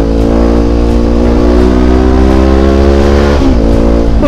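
Kawasaki Versys 650 motorcycle accelerating hard on a highway, its engine note loud, steady and close, climbing in pitch with a brief dip near the end as it shifts gear.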